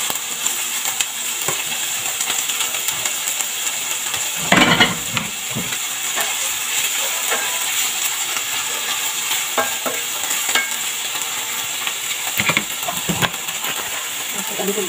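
Spinach sizzles and fries in a pan for scrambled eggs with spinach, under a steady hiss broken by repeated scraping stirs and a louder clatter partway through.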